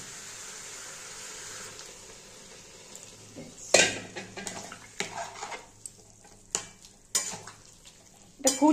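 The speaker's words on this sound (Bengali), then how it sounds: "সোয়াবিনটা কষানো হয়ে গেছে, এবার আমি একটু জল দিয়ে দেব।" Soybean curry sizzles in a pan as water goes in, followed by stirring and several sharp clinks of a spoon against the pan, loud and close.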